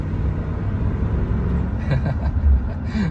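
A 1978 Cadillac Eldorado Biarritz coupe, a 29k-mile survivor, rumbles at a low idle from inside the car, then its engine swells briefly as gas is applied before settling back.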